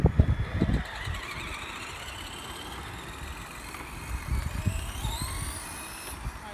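A freshly cleaned mud truck's motor runs close by in a steady, rough idle with a rising whine, after a few knocking thumps at the start.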